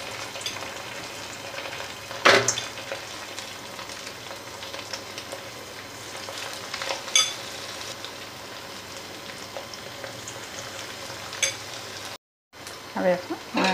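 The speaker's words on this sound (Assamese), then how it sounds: "মই ৰিফাইন তেলত ফ্ৰাই কৰিম" Broiler chicken pieces fry in refined oil over a low gas flame, a steady soft sizzle running throughout with a sharp crackle burst early on and a brief gap near the end.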